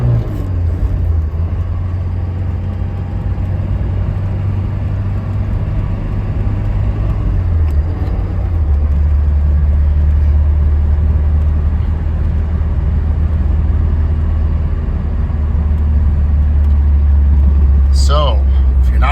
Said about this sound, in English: We'll even go ahead and put her into second and almost start from a dead stop, just to show you the torque is there